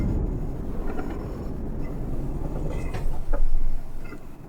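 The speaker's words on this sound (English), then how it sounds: "Don't want to get hammered by a train." Train rumbling past a level crossing in Euro Truck Simulator 2, a loud continuous low roar that swells toward the end with faint clattering on top.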